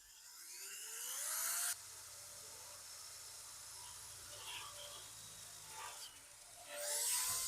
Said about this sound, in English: we got our holes drilled out for our grates, grill grates